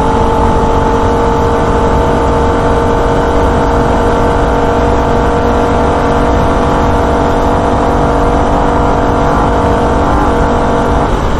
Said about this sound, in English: We sit the car very close to the rev limiter, upshift to fourth and hold it flat through this section